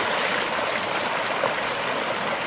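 A mountain stream on the Teton Crest Trail, snowmelt-cold water, rushing with a steady, dense broadband wash that stays close and constant throughout, with no voices.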